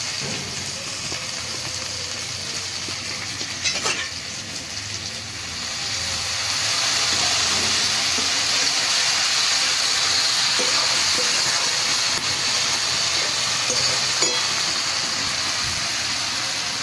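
Mustard paste spooned into a fried spice masala for a brickett fish curry sets off a steady, fairly loud hiss and sizzle that swells after a few seconds and holds, with faint clinks above it.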